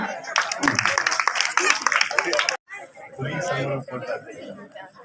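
A small group claps at a school gathering, a burst of brisk close clapping mixed with chatter that cuts off abruptly, followed by voices talking.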